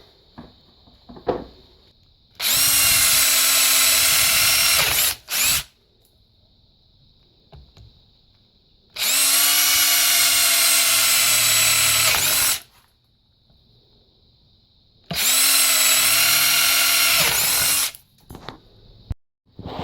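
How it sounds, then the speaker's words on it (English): Power drill boring into a 2-inch pipe in three loud, close bursts of a few seconds each, a high whining grind separated by quiet gaps with faint handling noises. "I've taken a piece of 2-inch pipe here and I've drilled it"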